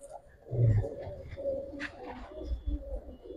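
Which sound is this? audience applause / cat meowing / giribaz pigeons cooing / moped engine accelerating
giribaz pigeons cooing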